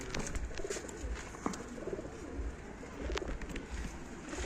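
Soft, repeated cooing of pigeons in a low murmuring rhythm, over steady outdoor background noise with a few faint clicks.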